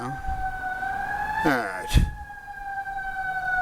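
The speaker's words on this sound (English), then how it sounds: "We got like sirens going by." Emergency sirens pass by, their steady wailing tones rising slightly in pitch, heard fairly close behind people talking, with a sharp thump near the end.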